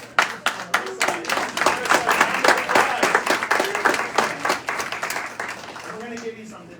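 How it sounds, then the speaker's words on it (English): Audience applause for a first-time participant at an outdoor TubaChristmas tuba concert in Belvidere, New Jersey, a crowd clapping steadily for several seconds before tapering off, with a voice briefly audible near the end. "So give her a round of applause."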